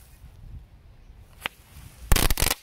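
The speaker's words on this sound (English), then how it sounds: "this last crackling ball is just begging to go" An electrically lit crackling ball firework gives one faint pop first, then a loud, dense burst of rapid crackles lasting about half a second, heard alone over quiet background hiss.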